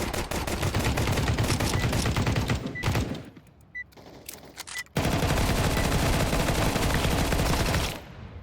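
Counter-Strike gunfire rattles in loud, dense automatic bursts, two long stretches of rapid shots separated by a brief lull holding a few isolated cracks.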